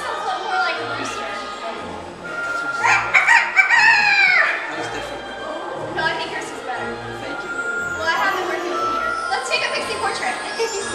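A person imitates a rooster crowing with a drawn-out, strained vocal cock-a-doodle-doo, repeated twice with a pause between, loud and close amid other people talking.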